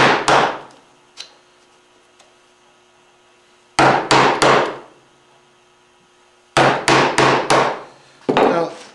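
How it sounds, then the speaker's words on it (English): A wooden mallet whacks pieces of a curly maple spice box in loud, close bursts: a few blows, a pause, then quick runs of three or four sharp knocks separated by quiet gaps over a faint hum. "occasionally you're whacking this thing with a mallet"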